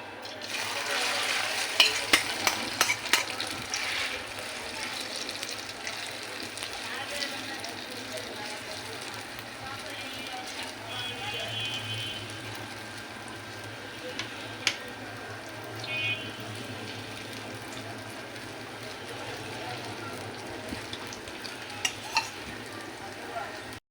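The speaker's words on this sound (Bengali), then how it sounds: "এখানে আমি এই যে কড়াইতে তেল দিয়ে দিয়েছি, তেলটা গরম হয়ে গেছে।" Noodles fry in hot oil in a wok, a steady close sizzle like light rain under a soft background hum, with a few sharp clicks of a utensil scattered through.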